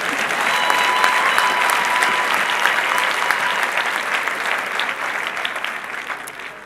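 A large audience applauds steadily, a dense wash of clapping that holds strong throughout and tapers slightly toward the end.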